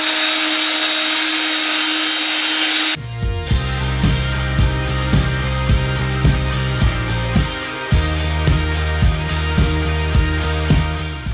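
Power polisher spinning up and buffing a cloudy car headlight with polishing compound, a loud steady motor whine with regular rhythmic pulses as the pad presses and moves, close by with no talking.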